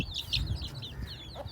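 A hen in a village yard gives a few quick, close clucks in a short burst, fairly loud against a quiet background, with no talking.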